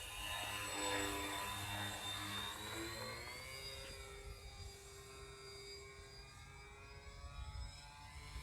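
Electric motors of a Dynam Cessna 310 twin-engine RC model plane run at full throttle, a steady high-pitched whine that shifts in pitch partway through and holds loud and close throughout.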